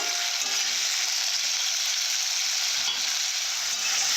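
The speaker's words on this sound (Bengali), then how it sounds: "লবণ দিয়ে অন্তত দু মিনিটের মতো ভালো করে ভেজে নেব" Fish frying in a pan with salt for a taro-leaf dish, giving a steady, loud, close sizzle that runs unbroken the whole time, with no talking.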